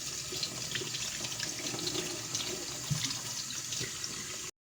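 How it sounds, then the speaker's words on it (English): Water runs steadily from a bathroom tap into a sink while hands are washed, a soft continuous splashing hiss heard up close and alone that stops abruptly at the end. "Wash your hands."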